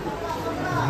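A crowd on the way to the Pali Ganpati temple fills the air with dense, close, steady chatter of many voices.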